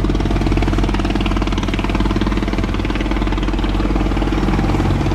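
A Vietnamese pair-trawler fishing boat engine runs close and loud, a steady rhythmic diesel-like knocking and thrumming that holds constant throughout with no voices.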